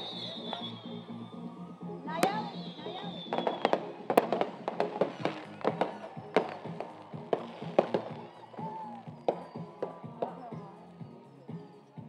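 Fireworks bursting at a high school graduation ceremony, a long run of dense crackling pops and bangs, some sharp and loud, with voices and crowd noise underneath throughout.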